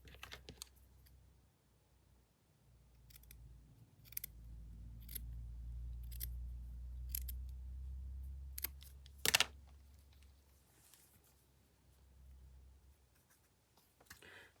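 Scissors snipping fabric for a frog journal cover in a quiet room, a handful of short, sharp cuts spaced out irregularly, with a quick cluster near the end and a faint low hum beneath.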